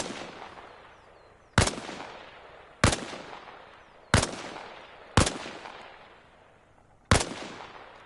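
Rifle fire at targets on a shooting range in the Arma video game, five sharp single gunshots spaced about a second or more apart, each followed by a decaying echo tail, with no voices.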